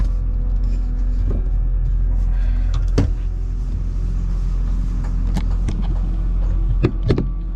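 A car drives past a homeless encampment, its steady engine rumble and road noise filling the recording from start to finish, with a few sharp knocks and rattles from inside the cabin and no talking.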